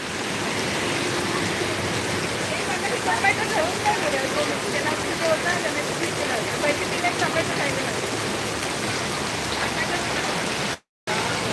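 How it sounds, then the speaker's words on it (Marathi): Heavy monsoon rain in Sangameshwar, Ratnagiri, Konkan, a dense, steady hiss of downpour close by, continuous throughout, with a brief dropout near the end. "खतरनाक बारिश पडला इकडे"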